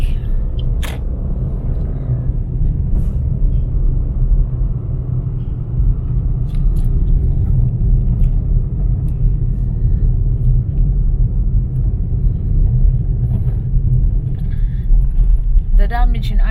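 Road traffic rumbles on Archbishop Avenue in Cebu City, where there are no working traffic lights after storm damage. The vehicle noise is a continuous low drone, with occasional light clinks and muffled voices nearby.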